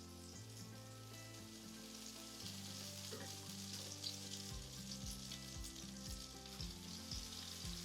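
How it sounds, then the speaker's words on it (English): Squash fritters frying in hot oil, a continuous crackling sizzle that stays even and faint throughout with no talking. "we are going to start dropping them in some hot oil"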